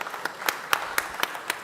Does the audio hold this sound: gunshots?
no